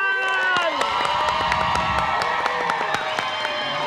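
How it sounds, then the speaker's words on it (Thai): A television studio audience claps and cheers to welcome a guest on a Thai variety show, lively crowd noise with scattered sharp claps and shouting voices over a steady roar. "ขอเสียงปรบมือต้อนรับคุณสัญญาคุณากร"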